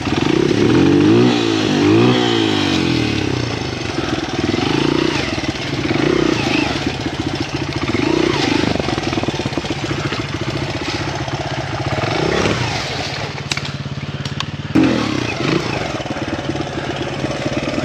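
A Honda XR100 dirt bike ridden through bush on a hard enduro trail, its small engine droning and revving close by for the whole stretch, with rises and dips in throttle.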